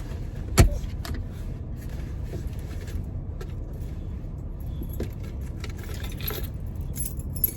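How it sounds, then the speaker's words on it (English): A single set of keys jangles in a sharp burst near the start inside a parked car, followed by softer scattered clinks and rustling against a steady low hum. "I got keys to everything in here."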